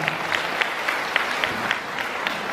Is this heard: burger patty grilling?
no